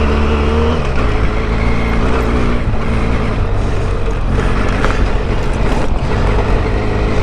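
A Benelli TRK502X motorcycle ridden offroad, its engine droning loud and steady throughout, with rumbling, wind-buffeted noise and slight shifts in pitch as the bike moves along a rough track.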